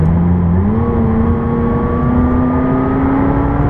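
A McLaren 675LT in sport mode revs hard and close, its engine note climbing steadily in a smooth continuous rise with no voices over it.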